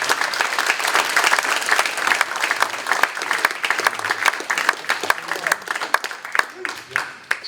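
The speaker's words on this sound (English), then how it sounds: "A round of applause and some thanks," Sustained applause from an indoor crowd at a Poole Pirates speedway team event, dense clapping held at a steady level for several seconds, with a few voices mixed in.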